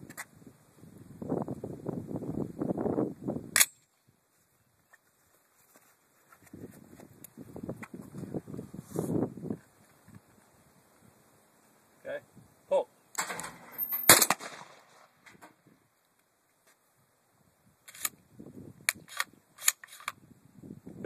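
Winchester Model 1911 shotgun fired outdoors, a few sharp single shots spaced apart with quiet gaps, some handling noise and rustling between them.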